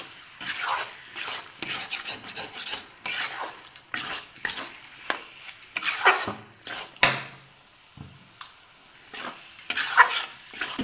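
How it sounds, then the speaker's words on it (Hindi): Salted tomato curry mixture for chicken curry being stirred in a pan, with repeated scraping strokes of a spoon and a light sizzle, close and fairly loud, with no talking. "इसको अच्छे से मिक्स कर देंगे।"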